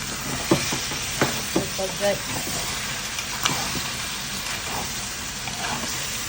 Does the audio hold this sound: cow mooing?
no